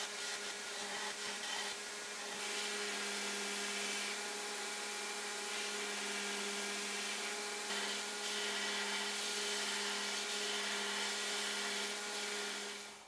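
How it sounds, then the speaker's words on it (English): A grinder runs continuously as it profiles a wooden knife handle, a steady loud motor hum with a bright abrasive hiss that shifts slightly as the wood is worked. "I'll head to the grinder to profile the handle"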